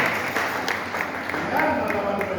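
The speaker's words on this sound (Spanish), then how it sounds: "Dale fuerte el aplauso a Jesús" A congregation at a preaching service in a convention center applauds in a sustained, moderately faint wash of clapping, with voices and tonal sound running over it.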